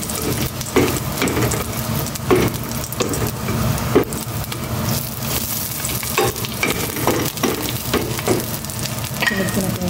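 Garlic sautéing in hot oil, a continuous loud sizzle and frying crackle with occasional stirring scrapes throughout.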